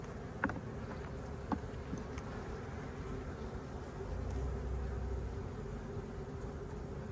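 A steady, soft hum of many honeybees buzzing at a hive entrance, bringing in pollen, fills the air, with a few louder individual bees zipping close by now and then.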